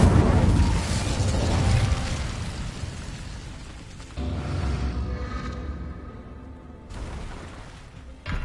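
The Incendio fire spell is cast in Hogwarts Legacy. A loud fiery burst opens the clip and roars on for several seconds. A second whooshing blast comes in around the middle, and a third flare arrives near the end.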